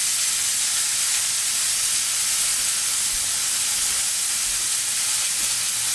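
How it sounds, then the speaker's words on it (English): A fatty bone-in steak sears in a hot, dry pan with no oil, producing a loud, constant, close-up hiss of steam and sizzle that never lets up. "let me put the steak on. So let's get it on."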